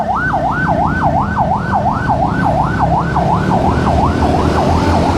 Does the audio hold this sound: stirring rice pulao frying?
no